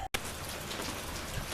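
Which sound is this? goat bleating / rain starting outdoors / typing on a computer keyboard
rain starting outdoors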